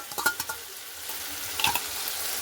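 Whisked sour yogurt tipped into a pan of frying spice masala for an egg curry, a few quick clatters of the spoon and bowl, then a steady loud sizzle and hiss close up.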